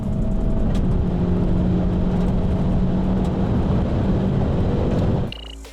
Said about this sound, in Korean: 이제 시속 200km까지의 가속 성능을 볼까요?